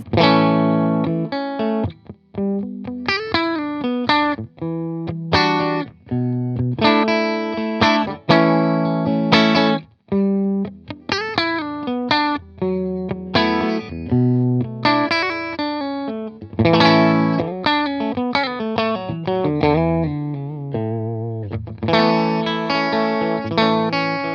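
An electric guitar plays a melodic line through an Orange amp with a Tone King Imperial preamp, notes ringing with a light delay and slight distortion, no voices.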